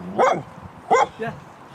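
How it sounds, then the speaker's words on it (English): A dog on a countryside hike barks three times, two sharp close barks followed by a softer third, with short gaps between them. "I'm hoping that's a friendly bark."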